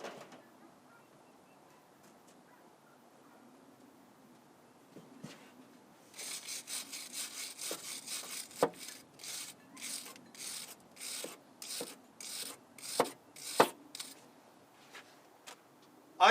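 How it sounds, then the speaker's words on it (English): A flux-core welder joins a flat washer to a broken, rusted exhaust manifold bolt, giving bursts of harsh broadband crackle in a steady run of short, evenly spaced pulses, close and fairly loud, after a quiet stretch with a few clicks. "I am using a flux core to weld the washer to the broken bolt"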